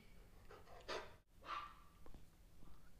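A dog gives two short, fairly faint barks on command about half a second apart, with soft breathing around them and no voices.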